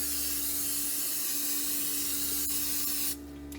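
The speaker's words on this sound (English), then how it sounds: "I'm just going to use the Pam, the original spray." A steady close hiss of a cooking oil spray can runs for about three seconds, then cuts off abruptly.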